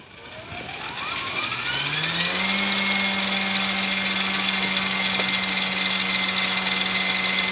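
An OMP Hobby M4 3D RC helicopter spools up on throttle, its rotor whine rising in pitch over the first couple of seconds, then holding a steady, loud, high-pitched buzz close by.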